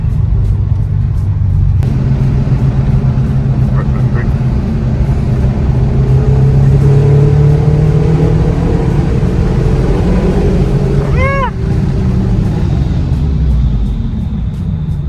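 A Subaru BRZ sports car engine hums and rumbles steadily throughout, cruising at a constant pace on a bumpy road on race coilovers, with road noise and a brief tonal whine near the end.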